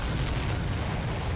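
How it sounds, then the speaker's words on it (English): An enemy supply ship blows up in a flight combat video game, a dense, sustained roaring blast with deep low rumble that fills the whole moment at close, heavy volume. "Did you see that explosion?"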